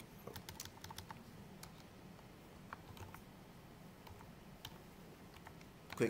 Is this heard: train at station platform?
no